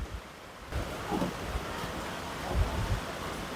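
Strong typhoon wind rushes and buffets the microphone in gusts, a rough, roaring outdoor noise with no talking.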